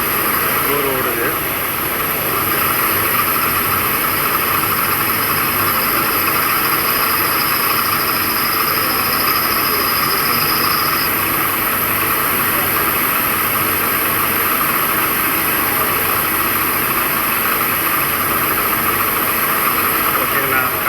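A CNC turning machine hums steadily through a boring operation after a light chamfer, a constant mechanical drone with a faint high tone and no talk over it.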